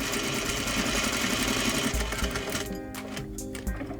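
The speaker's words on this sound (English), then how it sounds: "So an edge stitch along the center front edge." Sewing machine edge-stitching along the center front edge of wide trousers, a fast steady mechanical whir and needle clatter that stops partway, then short bursts resume quietly near the end.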